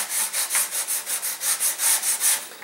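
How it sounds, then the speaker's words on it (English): Sandpaper rubs back and forth over the wing of a Focke Wulf FW P.1 model aircraft, smoothing the airfoil, in about a dozen steady, even strokes that are close and fairly loud, with no talk. "So at this point, we're going to sand all of this in to smooth it out."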